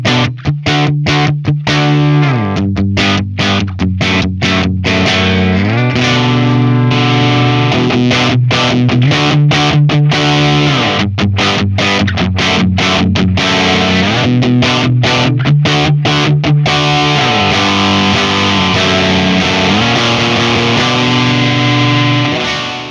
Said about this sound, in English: one of the most popular pedals in pedal history, and of course that is the Ibanez Tube Screamer.